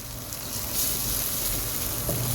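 Masala powder sizzles in frying onions for a clam (kakka) roast, giving a steady, even hiss with no pauses.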